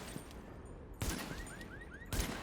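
Gunfire in The Division, shot into a vehicle's tires and glass: two sharp, loud bursts about a second apart, each trailing off into a short rattling tail.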